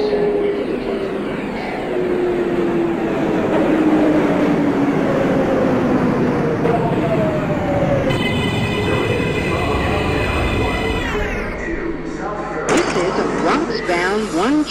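A subway train in the OpenBVE train simulator game rumbles into a station, its motor whine sliding downward as it slows, with brake hiss and squeal near the end.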